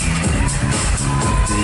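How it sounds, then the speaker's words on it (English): A crowd claps in a dense, continuous roar of applause at an awards ceremony during a Mister International pageant's special awards segment, loud and sustained throughout. "Let's give a big round of applause for Dr. Gisela Trajano Sarmiento."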